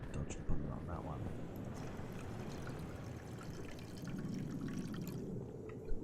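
Water being poured or running in a steady broadband splash and trickle that holds for several seconds, with a couple of brief knocks and faint background voices.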